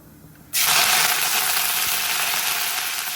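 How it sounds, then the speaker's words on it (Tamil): Curry leaves hit hot oil already popping with mustard seeds for a simple breakfast dish: after a brief quiet moment, a sudden loud, close sizzle bursts out and holds steady, fading only slightly. "கடுகு வந்து பொட்டிட்டு நம்ம இப்போ வந்து இதில் கொஞ்சம் கருவேப்பிலை போடலாம்"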